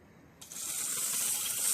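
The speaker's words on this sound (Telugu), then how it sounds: "ముందుగా ఒక బౌల్లో పెసలు, బియ్యం వేసుకొని వాటర్ వేసి వాష్ చేసుకోవాలి." Green gram and rice being washed with water in a bowl for pesarattu batter: a steady, bright rush of pouring water that starts abruptly and keeps going, close and fairly loud.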